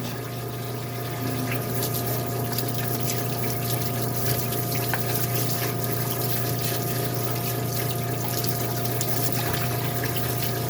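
A parts washer pump runs steadily while water leaks from its hose, giving a constant mechanical hum under a continuous trickling wash, close and even throughout.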